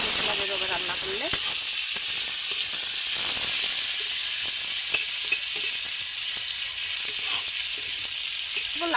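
Onions fry in a pan while a pomfret dish in mustard paste is being cooked, a steady close sizzle running throughout with a few scraping stirs.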